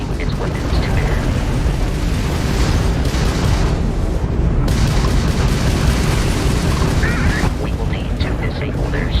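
Spaceship combat in Starfield on Xbox Series X, with an enemy Crimson Fleet ship opening fire: a continuous loud wash of booming explosions, weapon bursts and engine rumble, with a voice speaking over the din.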